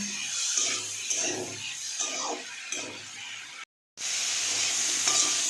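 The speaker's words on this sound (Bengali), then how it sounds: "নুন জিরের গুঁড়ো লঙ্কার গুঁড়ো হলুদের গুঁড়ো দিয়ে এটাকে ভালো করে কষিয়ে নেব" Spices sautéing in a pan with cumin, chili and turmeric powder, a continuous sizzle broken by rhythmic stirring scrapes and light clinks of a utensil, with a brief moment of silence near the end.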